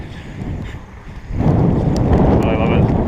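Strong wind blowing outdoors on a street in Reykjavik, Iceland, a dull roar buffeting the microphone that surges louder and stays steady after the first second and a half.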